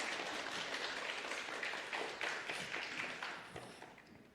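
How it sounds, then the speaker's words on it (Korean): Applause from a church congregation during a Friday prayer service, a steady wash of clapping that fills the room and slowly thins out toward the end. "박수합니다."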